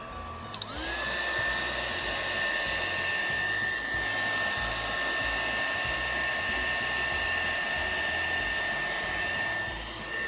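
Heat tool blowing hot air over resin on a galaxy tumbler, a steady whooshing fan with a high motor whine that starts after a click and runs unbroken for about ten seconds.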